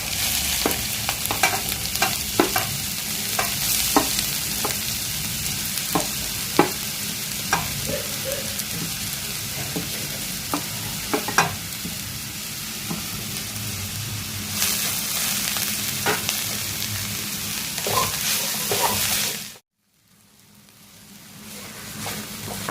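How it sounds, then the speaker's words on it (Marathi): Kheer mixture sautéed in ghee for a Navratri sweet: a steady, close sizzle runs throughout, with repeated scraping stir strokes in the pan, before the sound cuts off abruptly near the end. "आता याच तुपामध्ये आपण हा सगळा खीर परतून घेणार आहोत"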